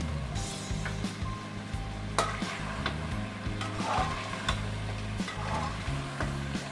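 Chicken karahi frying in a pan with spices and stirred steadily, a continuous close sizzle broken by frequent scraping and clinking strokes of the spoon, with no talking.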